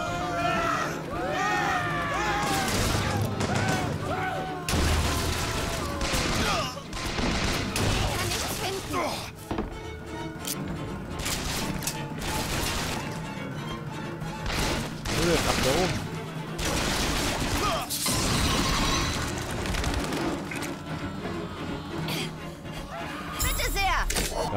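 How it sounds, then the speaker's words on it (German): Rapid bursts of BioShock Infinite gunfire crackle through a busy, dense mix of effects and music, with sharp shots scattered across the whole stretch. "Ein Schuss."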